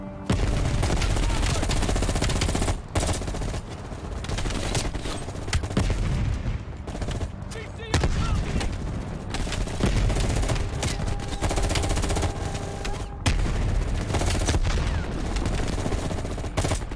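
Sustained gunfire in Call of Duty Black Ops Cold War, loud and dense machine-gun bursts and volleys filling the whole stretch with brief pauses, along with booms and battle noise.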